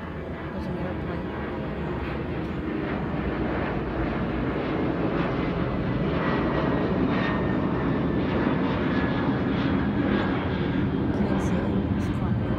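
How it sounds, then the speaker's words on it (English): An airplane flies overhead on a cloudy day, a steady broad engine roar that holds at an even level throughout, with a person talking over it outdoors. "There's an airplane."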